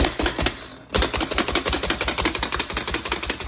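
An OXO hand food chopper rapidly chopping seaweed, producing a fast, loud series of clicking, clattering blade strikes with a brief pause early on, heard up close with no talking.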